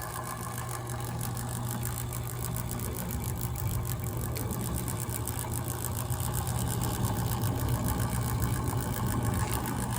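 A box-stock O scale Weaver model locomotive runs slowly at 2.2 volts, giving a constant motor hum laced with fast, regular ticking from the drive. No voices are heard.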